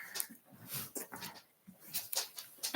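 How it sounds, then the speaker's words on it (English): A dog whimpers and yips in short, soft bursts, fairly close and alone, with small pauses between the whines. "The dog has joined me now."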